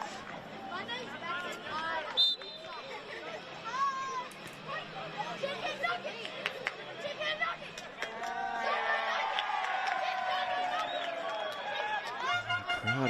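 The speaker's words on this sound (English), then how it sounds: "Crowd is starting to find their voice a little bit." A football stadium crowd at an NPL men's qualifying final between Lions FC and Peninsula Power gives off a rising murmur of voices and scattered shouts, growing fuller toward the end, with commentary talk running over it.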